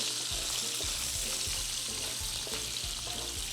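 Bacon fat sizzles and crackles steadily in a hot pan, loud and close, with soft scraping as strips are pushed aside. No one speaks.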